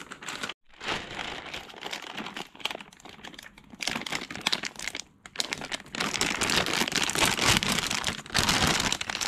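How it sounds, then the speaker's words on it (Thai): A suitcase packed with clothes has its zipper pulled shut, a dense, scratchy rasp running almost continuously with brief pauses, close and fairly loud, with no voices. "พอเราใส่ของเสื้อผ้าทุกอย่างไปเรียบร้อยแล้วเนี่ยให้เราปิดซิปให้สนิทนะ"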